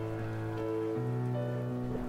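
Rain falls on pavement in a soft, even hiss that never lets up, with a faint low tonal drone underneath.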